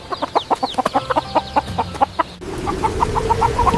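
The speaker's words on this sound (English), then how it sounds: "The chickens and roosters are eating." Chickens cluck in quick, steady bursts at close range, the sharp calls repeating rhythmically over a soft background hum.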